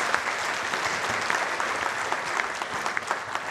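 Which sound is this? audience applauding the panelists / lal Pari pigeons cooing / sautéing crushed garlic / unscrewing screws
audience applauding the panelists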